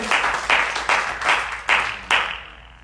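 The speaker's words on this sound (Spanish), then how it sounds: "le pueden dar un fuerte aplauso al Señor" Rhythmic applause from a church congregation, six or seven loud unison claps spaced roughly half a second apart, ringing in a reverberant hall before stopping and leaving quiet.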